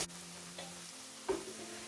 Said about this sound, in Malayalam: ഇനി ഒരു ലൈറ്റ് ബ്രൗൺ ആവുന്ന വരെ നമുക്ക് ഇളക്കി കൊടുത്ത് ഫ്രൈ ചെയ്യാം.